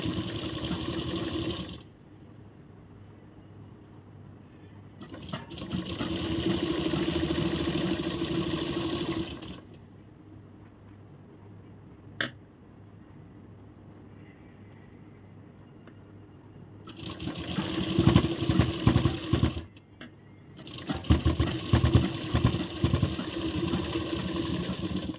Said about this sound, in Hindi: अब यहाँ से हम सिलाई लगाएंगे।